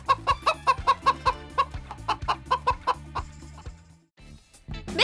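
Chicken clucking in a rapid rhythmic series of short bursts over a steady musical backing, loud and close, with a brief pause near the end before the clucks resume.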